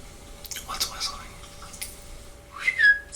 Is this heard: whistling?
yes